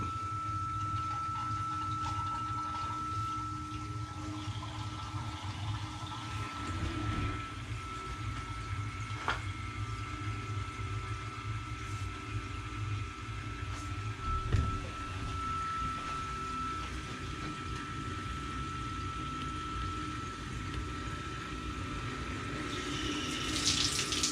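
Water rushes steadily through the pipes of a home heating system being started up, a continuous flowing hiss and gurgle at constant level for the whole stretch, with no talk.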